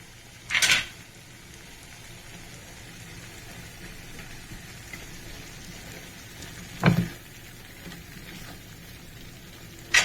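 Spice masala for Rohu fish rezala, with a little sugar added, cooks down in oil in a pan: a faint, steady sizzle runs throughout, broken by two or three brief scraping knocks of the spoon.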